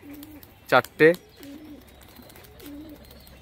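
Rajshahi giribaz pigeons give low, rolling coos in three separate phrases, close and moderately loud, with a brief spoken word in between.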